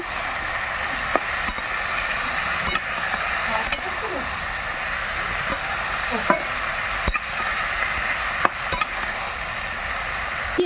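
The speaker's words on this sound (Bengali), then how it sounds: "দিয়ে দিচ্ছি পরিমাণ মতো নুন এবার ভালো করে কষে নেব" Salt and turmeric sautéed in a pan over a wood fire, a steady sizzle broken by sharp spoon knocks and scrapes against the pan at irregular intervals.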